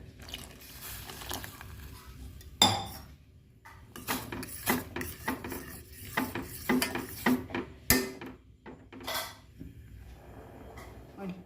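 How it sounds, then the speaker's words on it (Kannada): Buttermilk poured into a pot and stirred, with a spoon clinking and scraping against the vessel in irregular taps and knocks, close and moderately quiet. "ಇವಾಗ ಮಜ್ಜಿಗೆ ಹಾಕೋಣ"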